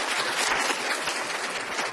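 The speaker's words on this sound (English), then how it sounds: "so that's an extra round of applause for Andrew" An audience at a research conference gives a speaker a round of applause, a dense, steady wash of many hands clapping throughout, with no pauses.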